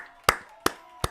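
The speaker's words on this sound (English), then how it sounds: "Just applauding you." One person claps three times, sharp and close, at a steady, unhurried pace with brief gaps between each clap.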